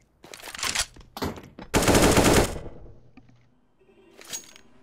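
Automatic rifle fire in the Counter-Strike: Global Offensive game, several loud close bursts of rapid shots, the longest near the middle, then a quieter tail and one last short burst.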